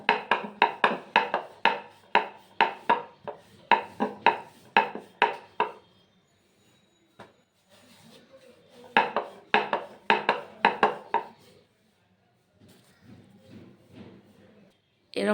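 A rolling pin works paratha dough on a board in rapid rhythmic clacking bursts, loud and close, with pauses between rounds of rolling.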